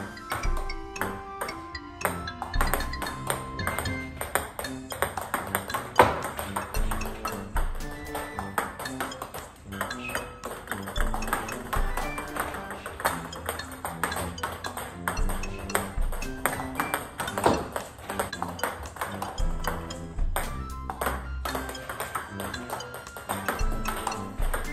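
A table tennis ball is struck in practice, with long serves returned using heavy backspin; sharp ping and tap hits come in a steady rally rhythm over several seconds, fairly close and clear.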